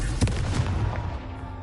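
A Confringo blasting spell explodes in the video game Hogwarts Legacy: a short, heavy boom with a low rumble that fades quickly over about a second.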